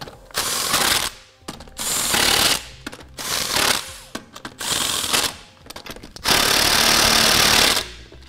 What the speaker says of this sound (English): we'll take our impact and go in an alternating star pattern to provide even torque.